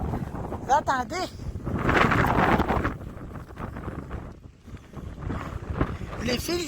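A violent wind of about 70 to 90 km/h makes overhead wires sing, with gusting roar and whistling tones under intermittent speech, a bird call briefly audible early on.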